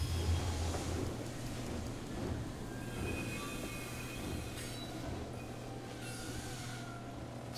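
A train arrives in the video game War Hospital, a steady rolling rumble of wheels and carriages with faint squeals, moderately quiet and continuous with no talk.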